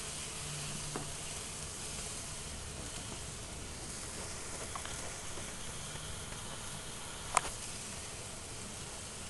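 Blackberry-chipotle marinated tri-tip searing in a hot pan gives a faint, steady hiss of sizzling that runs throughout, broken by a few small pops and crackles.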